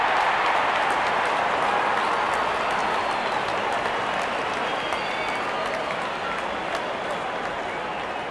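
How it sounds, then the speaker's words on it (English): A cricket stadium crowd at an England versus South Africa T20 match gives sustained, even cheering and applause as the openers walk out, a dense continuous roar with no breaks. "Openers walking in and the crowd cheering in anticipation."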